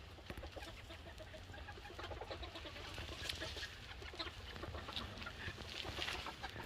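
Guinea fowl chatter and cluck in repeated bursts over a steady outdoor murmur, birds fairly close, no voices.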